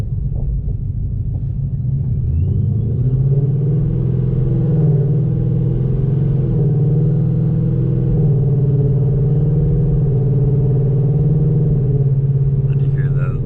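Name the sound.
tuned Ford Mustang engine while driving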